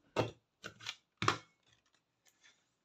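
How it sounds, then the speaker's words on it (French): Small scissors snipping through paper, three or four crisp close cuts in quick succession followed by a couple of faint clicks of the blades, quiet and isolated. "Mes petits ciseaux"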